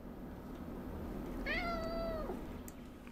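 A pet cat gives a single clear, drawn-out meow close by, heard alone over a low background hum.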